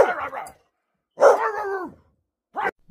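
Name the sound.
dog barking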